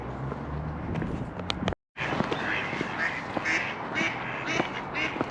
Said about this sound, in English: The army of ducks.